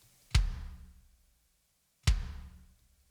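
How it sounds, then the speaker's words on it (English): Kick 10 from the Slate pack hits twice about two seconds apart, each a punchy low thump with a short decaying tail, clean and alone. "Kick 10 from the Slate pack."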